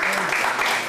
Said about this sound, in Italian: È un bel applauso.